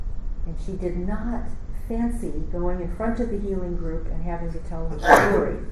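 A single sneeze from someone in a church congregation during a Mennonite sermon, a short loud burst near the end that cuts over the preacher's steady speech.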